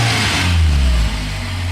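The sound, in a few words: Toyota Tercel engine running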